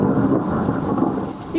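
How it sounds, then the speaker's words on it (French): Deep rolling thunder rumbles through a night storm with rain and wind, a loud continuous low roar lasting the whole moment, no voices. "L'orage gronde."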